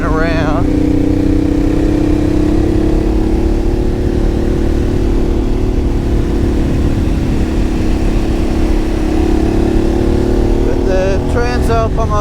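A Honda Postie motorcycle engine runs at steady, fairly loud revs throughout, with a droning tone and a brief rise in revs near the end, under continuous wind noise.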